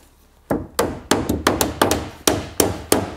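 Hammer driving tacks into a wooden boat plank, about ten sharp, close strikes in an uneven rhythm, each ringing briefly before the next, no talking.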